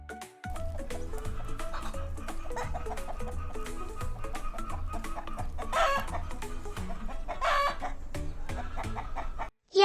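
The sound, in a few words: chicken clucking and rooster crowing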